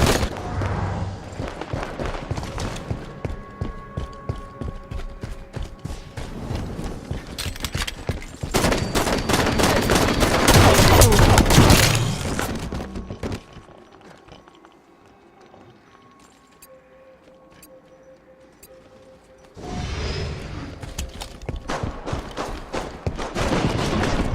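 Video game battle with heavy gunfire and sniper shots, dense bursts of automatic fire and thuds, loud for long stretches, then a quieter lull before the shooting resumes.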